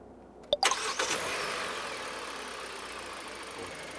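A car engine cranks with a few quick bursts, catches, and settles into a steady idle as it warms up, close and fairly loud with no talking.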